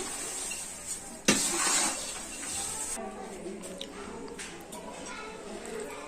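Poha chivda with salt being stirred in a pan over a medium flame, with a soft scraping and rustling of the flakes and a louder clatter early on, while someone talks over it.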